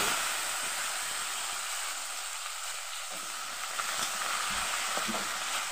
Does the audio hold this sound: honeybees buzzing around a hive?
no